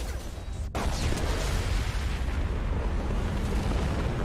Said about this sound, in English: Big boom.